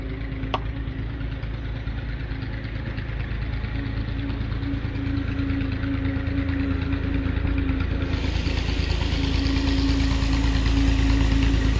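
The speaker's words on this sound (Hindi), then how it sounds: "चली गई गैराज में गाड़ी," A car is driven into a garage with a steady, close engine rumble that idles and creeps along, growing slightly louder and fuller toward the end, with no voices.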